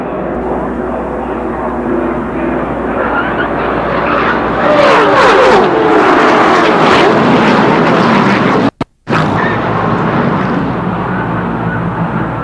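Roaring engines of a packed stock car field race past at Daytona during a huge multi-car wreck, a loud continuous rumble that swells midway with crunching bursts and a brief dropout.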